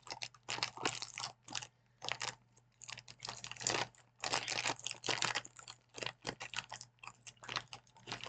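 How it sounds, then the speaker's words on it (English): Crunching and chewing of a crunchy, chocolate-filled Turkish biscuit cookie, heard close up as a dense run of sharp, crackly bites and chews with short pauses, with a steady low hum beneath and no talking. "Biscuit cookies. Crunchy outside, deliciously chocolatey inside."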